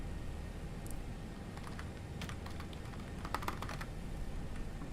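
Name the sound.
typing on a computer keyboard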